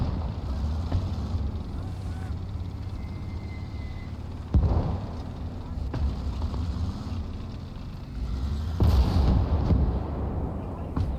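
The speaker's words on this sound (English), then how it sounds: "So with two mortars firing into the center, it's kind of a hard push" Mortar artillery fire in the World War II game Gates of Hell Ostfront, a couple of heavy booming impacts standing out over a steady rumbling battlefield and wind bed, with no talk.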